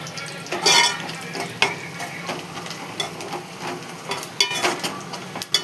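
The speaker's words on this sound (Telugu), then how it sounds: "ఇట్లా గోల్డ్ కలర్ వచ్చేదాకా వేయించుకోవాలి" Chopped onions fry in a pan while being stirred, giving a steady sizzle with repeated scrapes and clinks of a utensil against the metal.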